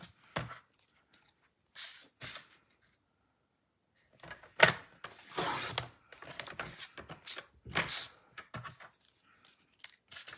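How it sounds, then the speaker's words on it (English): A thin paper strip is cut for a handmade card in several short bursts of snipping and rustling, close by, with quiet gaps between the cuts and no talk heard. "let's cut off just a little 1/2 inch strip of this"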